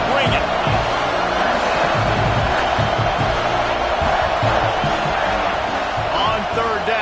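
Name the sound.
football stadium crowd cheering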